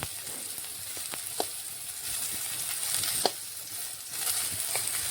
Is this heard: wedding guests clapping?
no